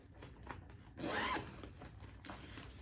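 A zipper on a cheap project bag is pulled in one quick, close rasping stroke, with quieter fabric rustles before and after, no talking.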